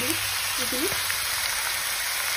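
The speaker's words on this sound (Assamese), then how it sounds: "মাংসখিনি এটা 5 মিনিট সময় ভাজি ললো এটা যিখিনি আদা নহৰু পিঠি থোৱা আছিলে সেইখিনি দি দিলো" Duck meat frying in a pan with ginger-garlic paste, giving a steady, dense sizzle and crackle that holds at an even level throughout.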